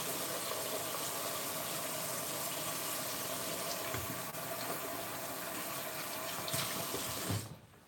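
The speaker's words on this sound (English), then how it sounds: "let me wash my hands to get that stuff off" Hands are washed under a running tap, a steady close rush of water that continues evenly before cutting off abruptly at the end.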